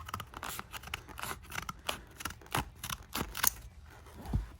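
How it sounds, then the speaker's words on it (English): Scissors snip through a paper cash envelope to trim off its top, giving a close, steady run of crisp cutting sounds with no talking. "and then I cut off the top"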